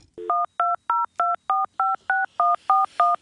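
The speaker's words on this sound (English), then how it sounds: "Dial them from another phone line." A telephone keypad dials a number: eleven crisp DTMF tones in a steady, even sequence, each a short two-pitch beep, heard alone with no talk.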